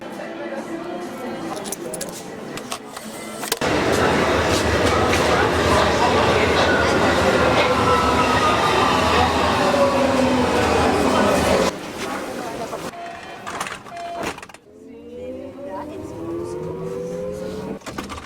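A subway train rumbles and screeches through a busy underground station, loud and sustained for several seconds, then fades into echoing platform noise and chatter with squealing wheels and passing rail sounds.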